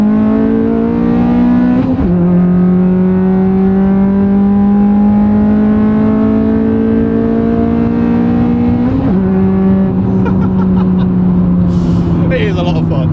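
A modified Ford Fusion ST pulls hard under acceleration, its engine note climbing steadily, then dropping sharply at each of two downshifts. The car is loud and close, and the engine sound carries on through the whole stretch.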